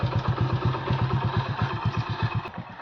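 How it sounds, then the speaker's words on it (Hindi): A roughly seven- or eight-year-old motorcycle idles after starting, its engine putting out a steady, rapid low thumping pulse close by, even and unbroken apart from a small click near the end. "गाड़ी हमने स्टार्ट कर दी है"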